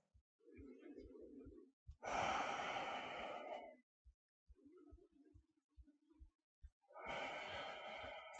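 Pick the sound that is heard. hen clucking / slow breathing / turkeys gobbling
slow breathing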